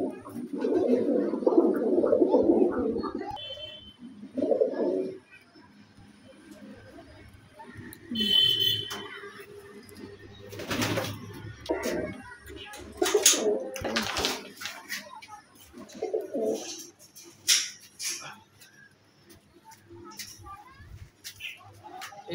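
Homing pigeons kept for flying competitions coo in a home loft, giving low, soft, repeated throaty calls. Intermittent fluttering and knocking sounds come and go while someone talks nearby.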